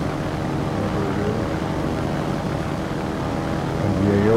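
Torpedo bombers flying over a naval battle in a warship video game, a steady droning aircraft engine hum held at an even level throughout, swelling slightly at the end.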